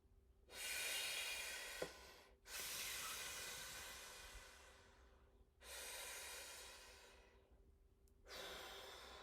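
Slow, labored breathing through small tubes, four long hissing breaths each trailing off, close and rasping, with short pauses between them and no talking.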